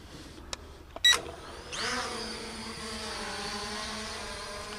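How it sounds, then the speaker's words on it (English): A K12 MAX drone's brushless motors spin up after a couple of clicks and settle into a steady, smooth high-pitched whine as it hovers close by. "Nice and quiet, brushless motors, aren't they?"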